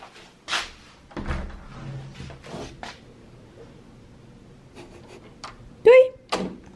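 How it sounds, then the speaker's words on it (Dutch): A home door is pushed shut, with clicks and thumps of handling followed by a firm latch near the end, while people talk and a dog or child makes short sounds nearby. "Dan doe ik gewoon de deur dicht."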